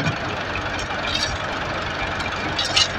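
An old but sturdy tractor engine runs steadily nearby in Pakistan, a continuous low knocking rumble with a brief rise near the end, no voices.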